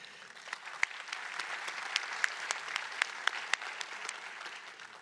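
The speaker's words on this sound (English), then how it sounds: "they definitely deserve a big round of applause" A conference audience at a circular economy forum's closing session claps continuously for about five seconds, a dense, moderately distant wash of hands with a few sharper individual claps popping out.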